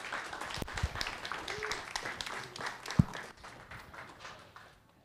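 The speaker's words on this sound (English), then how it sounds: "Let's give Dr. Smith one more round of applause." A small audience at a science cafe gives a guest speaker a last round of applause, a fairly quiet scatter of claps with a few louder knocks that tails off and dies away toward the end.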